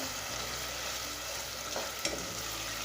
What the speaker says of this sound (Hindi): अब अच्छी तरीके से मिक्स कर लेंगे